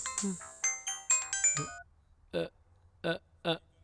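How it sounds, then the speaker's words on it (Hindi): A mobile phone ringtone plays loudly for an incoming call, a melodic electronic tune followed by three evenly spaced repeating rings, with no talk over it. "सुंदर का कॉल आ रहा है"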